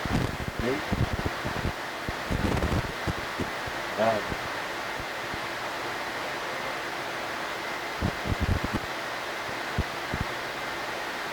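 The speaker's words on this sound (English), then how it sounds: "These are 1100 spindles, the machine, long machine, 45 meter long." A 45-metre-long textile spinning machine with 1100 spindles in a Kenyan cloth mill gives off a steady broadband whir and hum, broken by intermittent clattering knocks, with talk over it.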